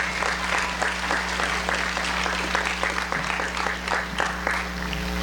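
An audience at a senior awards ceremony breaks into steady, dense applause for the students, a continuous wash of clapping from a crowd filling the room.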